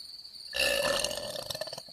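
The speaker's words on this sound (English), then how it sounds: "it's just a burp" A single drawn-out burp after eating strange food, rising suddenly and rumbling for over a second before trailing off, loud and close with no talking.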